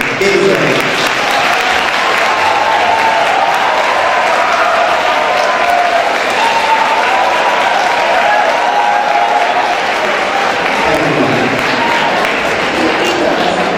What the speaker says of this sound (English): give a huge round of applause for your teachers